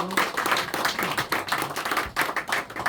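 A congregation applauds steadily throughout a Sunday church service, with dense, continuous clapping filling a large room.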